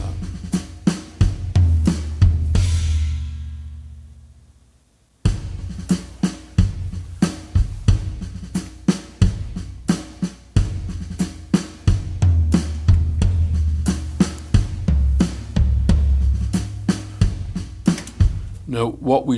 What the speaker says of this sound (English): he's playing the Roland V drums here, triggering the Superior Drummer 3, and it sounds like this